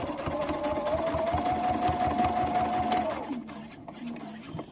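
A sewing machine stitches fabric for a travel cutlery holder, running as a rapid, steady mechanical whir with a regular needle beat for about three seconds before stopping. A person talks nearby.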